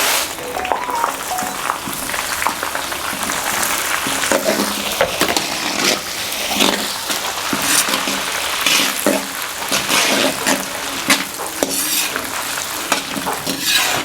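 Dried red chillies, seeded with only the skins left, sizzle and crackle steadily in hot oil while being stirred, a dense continuous frying hiss with scraping stir sounds close up, no talk.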